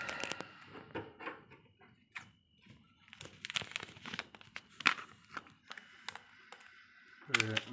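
Scissors cut open a Nazo lemonade drink powder packet, heard as crinkling plastic and snipping sounds in short bursts amid kitchen handling noises, close by.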